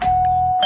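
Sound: doorbell ringing

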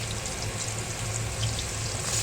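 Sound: bottle gourd frying in oil

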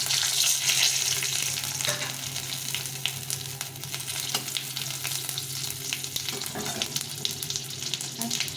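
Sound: red chillies and cumin sizzling in hot oil tempering

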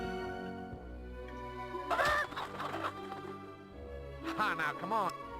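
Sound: chicken clucking in the video game Fable

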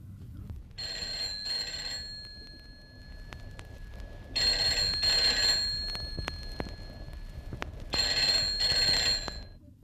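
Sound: telephone ringing in radio play

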